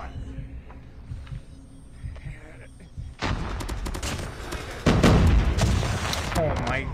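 A first-person shooter match with a PP19 Bizon submachine gun: quiet at first, then a burst of dense gunfire and booming frag grenade blasts, loud and close, with a voice talking underneath.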